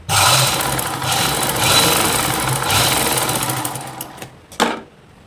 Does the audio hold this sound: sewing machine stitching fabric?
yes